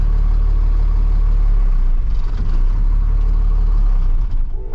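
A truck engine in reverse with the park brake on idles with a loud, low, steady rumble. It falters and dies toward the end, leaving a brief tonal whine and no speech.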